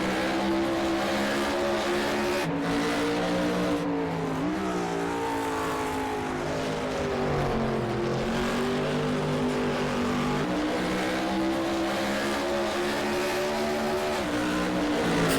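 Race car in a GT racing video game at Kyalami, its engine a loud continuous howl that rises and falls through the gears, revving hard with brief dips on shifts, with no talk.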